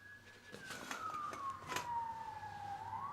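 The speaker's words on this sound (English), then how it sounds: "Seriously, can you hear the sirens?" Police sirens wail outside at a distance, one faint gliding tone slowly sweeping down and back up over a low traffic hum.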